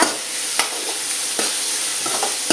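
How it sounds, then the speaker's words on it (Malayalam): Crushed ginger and garlic with curry leaves frying in a pan for a masala dosa filling, a steady close sizzle broken by a few sharp scrapes as they are stirred. "ഇഞ്ചിയും വെളുത്തുള്ളിയും കൂടെ ചതച്ചത് അത്രയും കൂടെ ഇട്ടിട്ട് ഇപ്പം കറിവേപ്പിലയും കൂടെ ഇട്ട് നല്ലോണം മിക്സ് ചെയ്യുക."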